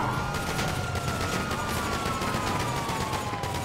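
Dense gunfire in the video game GTA 5 Online, rapid continuous shots with a police siren wailing underneath, loud and busy throughout, no talking.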